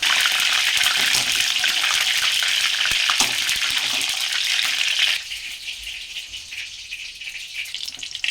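Garlic, curry leaves and dried red chillies sizzle in hot oil, a dense crackling hiss that fills the first five seconds and then drops to a quieter, softer fizz, with no talking.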